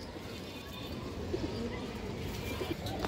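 A female pigeon coos softly in a loft, low repeated calls under a steady background hum, fairly faint and close.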